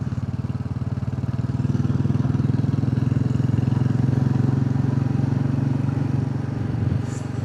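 A Royal Enfield Classic 350 motorcycle pulls away with a steady, close, loud thumping engine note that holds evenly throughout and eases slightly near the end.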